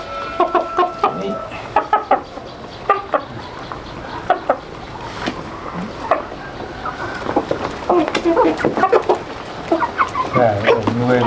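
Big-footed chickens raised on a farm cluck repeatedly in close, irregular bursts, with occasional louder squawks and a busier flurry of calls toward the end, over a faint outdoor background.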